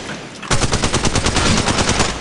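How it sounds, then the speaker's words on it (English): Rapid automatic gunfire from the mobile battle royale game Apex Legends Mobile, a dense burst of evenly spaced shots starting suddenly after a brief quiet moment and continuing loud and steady to the end. "Opening fire. Getting shot at."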